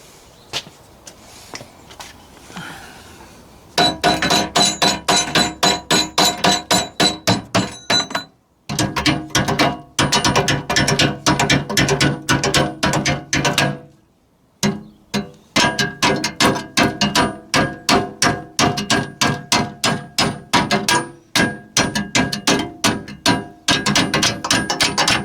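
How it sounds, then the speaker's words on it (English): A hammer strikes a metal tractor step piece to straighten it, dozens of rapid, sharp ringing blows close by in quick bursts with brief pauses between runs. "I'm going to get the hammer and just tap this down a bit and straighten that out"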